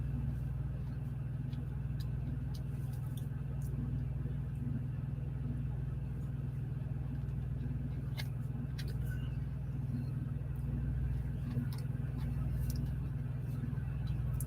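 A semi truck at a Georgia unloading dock gives off a steady low engine rumble and idle hum throughout, close and constant, with faint clanks and creaks as it shifts while being unloaded.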